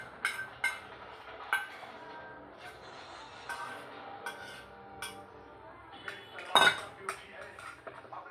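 Warm mava rabdi is strained through a metal sieve, making a series of light clinks and scrapes of metal on a vessel, scattered and fairly close, with one louder clatter near the end.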